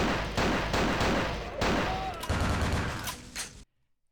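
A full auto shotgun in a video game blasting in a dense, continuous rapid-fire burst, loud and close, with the shots running together for a few seconds before cutting off abruptly into silence.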